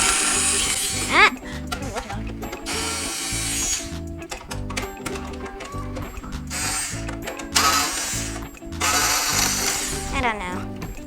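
A power drill driving a screw into a Verismo coffee machine, heard in repeated short bursts with ratcheting clicks, the screw being stripped; people talk in between the bursts.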